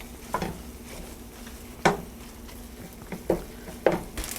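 Sausage meat browning in a pan over medium-high heat, a soft continuous sizzle broken by a few sharp spatula scrapes and taps.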